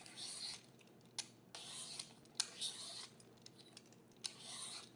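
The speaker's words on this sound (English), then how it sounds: "Use a peeler, pretty easy. Just peel off so that it's easier to cut without the tough skin." A vegetable peeler strips the tough skin from a butternut squash in repeated scraping strokes, each about a second long and close by, with small knocks between strokes.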